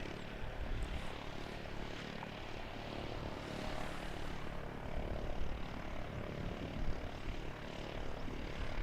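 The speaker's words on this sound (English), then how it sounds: "we've got an ATR from Invercargill coming in straight behind" An ATR turboprop airliner arriving from Invercargill comes in to land at Christchurch Airport, its engines and propellers giving a steady broad roar that swells and fades slightly in the open air.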